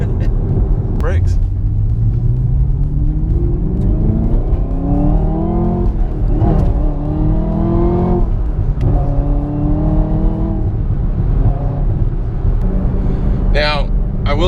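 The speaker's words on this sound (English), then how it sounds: "the supercharger has a very nice whine to it" A Chevrolet Camaro ZL1 1LE with a supercharged V8 and manual gearbox revs loudly and continuously, pitch climbing through repeated gear pulls with a whining supercharger layered over the engine's rumble, alone without talk.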